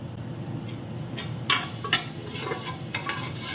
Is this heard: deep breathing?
no